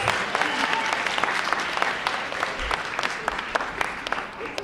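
Crowd applause for a singer at a community club's Black History Month celebration, a steady, fairly close burst of many hands clapping with a few sharp individual claps standing out.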